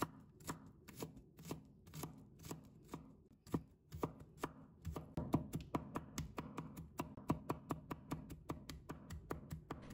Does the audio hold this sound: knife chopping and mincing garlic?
yes